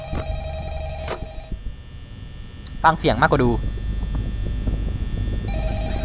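A telephone rings repeatedly in the horror video game Five Nights at Freddy's over a low electrical hum, while a person talks over part of it.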